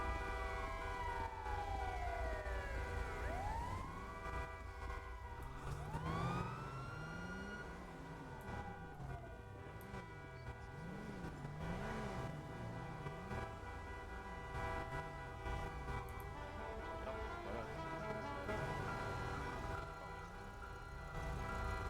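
A wailing ambulance siren sweeps up and down continuously through a taxi protest on a street, loud and sustained over traffic rumble.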